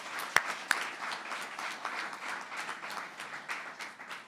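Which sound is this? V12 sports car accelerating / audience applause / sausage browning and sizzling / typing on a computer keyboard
audience applause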